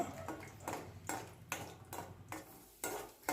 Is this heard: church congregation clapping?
no